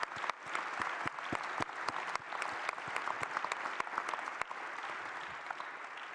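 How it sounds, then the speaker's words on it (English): Audience applause for the panelists closing a carbon farming summit plenary, a steady dense roomful of clapping with sharp individual claps standing out, sustained and fairly loud throughout without a voice over it. "I would like to give a round of applause to our panelists."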